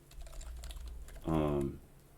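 A short, faint burst of clicking keystrokes on a computer keyboard while coding, rising briefly over quiet room noise.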